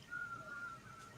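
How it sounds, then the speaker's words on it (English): A faint, thin whistled tone holds steady for about a second, then breaks into a few shorter bits, heard alone with no voices. "I heard some whistling."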